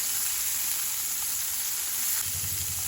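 Chicken meatballs searing in a pan after being flipped golden brown, a steady close sizzle and crackle of frying with a slightly heavier spatter near the end and no talking.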